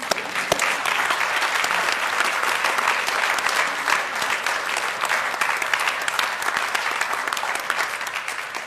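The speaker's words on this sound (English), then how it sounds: "You can all clap." Steady, dense applause fills a white coat ceremony for medical students as each one is coated by a faculty member or mentor, sustained crowd clapping with no pause throughout.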